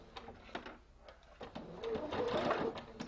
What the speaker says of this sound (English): we are going to start off with a reverse stitch